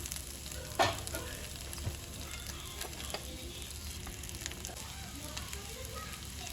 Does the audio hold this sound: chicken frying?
yes